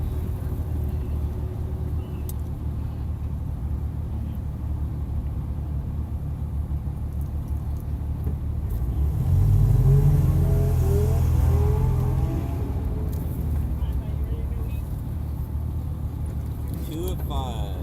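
A race car engine drones steadily from inside the cabin during a track practice session, then swells into a louder revving surge midway before settling back, while people talk over the rumble.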